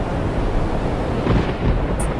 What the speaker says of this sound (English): Just then, a violent storm arose.